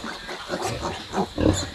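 A sow in her pen with newborn piglets grunts several times, close and low, in uneven bursts that grow louder toward the end.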